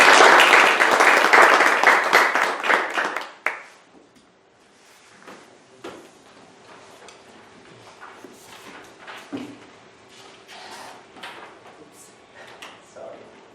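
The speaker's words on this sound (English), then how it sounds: "Let's give him a round of applause." Audience applause at an academic talk, a dense loud clapping for about three seconds that then fades to a few scattered claps and small room noises, near and without talking.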